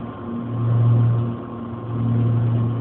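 A light aircraft engine runs at a steady drone just after landing on runway 07, its pitch swelling and easing in two slow waves with no talk over it.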